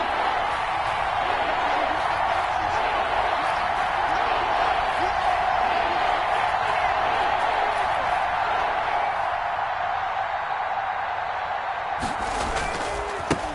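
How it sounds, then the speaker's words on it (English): A stadium crowd roars steadily in a football video game on PS4 as a big third down approaches, a dense, loud, continuous wash of cheering that holds throughout, with commentary talk running under it. "the crowd getting into it as we come up on a big 3rd down"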